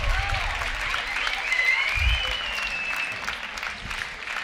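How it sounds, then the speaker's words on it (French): Audience applause at the 2018 French Beatbox Championship semi-final, a steady dense wash of clapping with crowd noise and a few whoops, while a voice on the microphone talks over it. "On peut encore les applaudir, s'il vous plaît."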